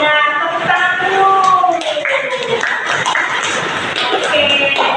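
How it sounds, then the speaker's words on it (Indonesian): Students in a classroom clap their hands while voices chatter and call out over the clapping, a steady busy mix throughout. "Tepuk tangan dulu."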